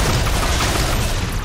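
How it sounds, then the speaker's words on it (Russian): A brief, dense roar of heavy gunfire in the game Wasteland 3, loud and continuous with no gaps or voices. "тяжелые выстрелы внезапно коллизятся"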